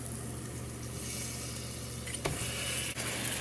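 Shark pieces go into hot oil with spices and sizzle in a steady, fairly quiet frying hiss, broken by a brief clatter partway through.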